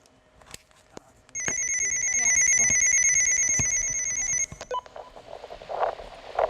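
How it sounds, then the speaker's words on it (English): A mobile phone rings from an incoming call during live coverage of a college sailing nationals, a loud steady electronic trill lasting about three seconds before cutting off, with background noise and voices around it. "Corey's calling Darren's phone."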